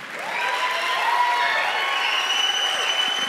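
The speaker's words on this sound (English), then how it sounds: "If you are thankful for your pastors, clap your hands and give God praise." A church congregation claps and cheers in praise for their pastors, a broad, steady wash of applause with voices mixed in, sustained throughout.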